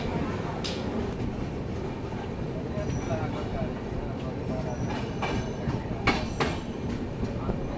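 A Swatantra Senani Express train pulls out of a railway station after a five-minute halt, with a steady rolling rumble, faint clicks and brief high squeals under someone speaking throughout.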